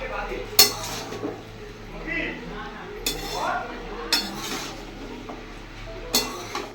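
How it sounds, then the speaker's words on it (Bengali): Chana being sautéed in a pan, heard as sharp clinks and scrapes of a metal spoon against the pan at irregular intervals over a faint background, close by. "এরপর চানাটাকে দিয়ে ভালো করে কষিয়ে নিতে লাগবে"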